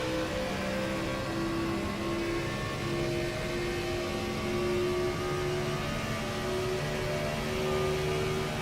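A race car engine in the iRacing video game holds a high, steady whine at very high RPM. The sustained harmonic drone shifts pitch only slightly, with no talking.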